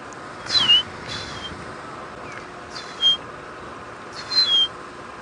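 In the African bush, a drongo mimics a magpie shrike with a few bright whistled notes that slide downward, coming in three or four separate bursts at moderate distance over a steady low background rumble.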